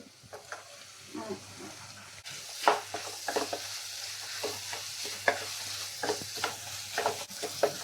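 Tomato fries in a pan for chicken curry, giving a steady close sizzle broken by repeated scraping stirs of a utensil against the pan.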